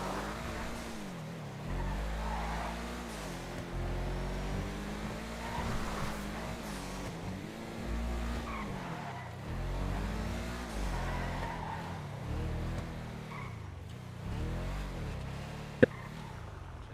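A car driven in the video game GTA 5 revs and drones continuously, its engine pitch rising and falling through gear changes with occasional tire squeal, and a sharp click near the end.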